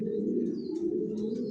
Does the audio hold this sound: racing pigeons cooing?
yes